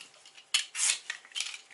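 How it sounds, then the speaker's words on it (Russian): A knife peels apples for a herring and bean salad, making a few short, bright scraping and clinking strokes with pauses between them, close by and with no voices. "будем чистить яблоки и нарезать"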